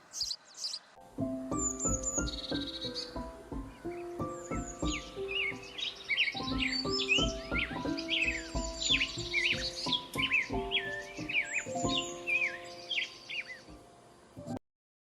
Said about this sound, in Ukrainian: А ви чули, як навесні співають пташки?